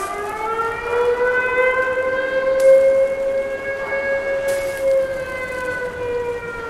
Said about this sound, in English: Which map do you hear this siren on?